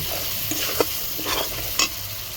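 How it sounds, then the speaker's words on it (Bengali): Spice paste with chili powder frying in a pan while being stirred, a close sizzling hiss broken by several scraping stir strokes. "মশলাটা ভাজানো হয়ে গেছে"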